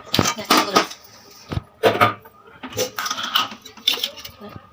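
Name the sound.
placing a kadhai wok for frying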